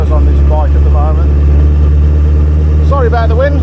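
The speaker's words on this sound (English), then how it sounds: "Sorry about the wind." Heavy low wind buffeting roars continuously over a motorbike ride on Kefalonia, loud and close, with a voice speaking briefly under it.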